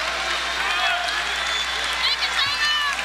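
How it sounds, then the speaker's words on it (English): Basketball arena crowd at a Missouri State game against SIU, a steady broad roar of cheering and clapping throughout, with a few whistles and shouts rising near the end. "Crowd's trying to get into the game"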